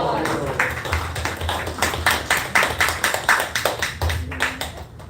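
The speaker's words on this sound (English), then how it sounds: "Let's give a big round of applause." An audience at a devotional gathering breaks into applause, a loose patter of many hands that builds into quicker rhythmic claps before tapering off, with voices murmuring underneath.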